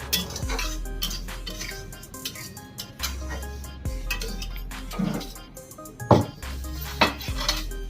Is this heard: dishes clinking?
yes